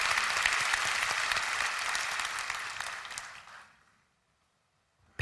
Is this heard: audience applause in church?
yes